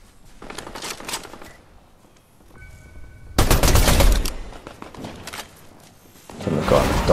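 Fortnite bot gunfire rattles out in rapid bursts of shots, loud and close, separated by quieter stretches of game noise.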